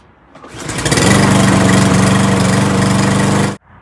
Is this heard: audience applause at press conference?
no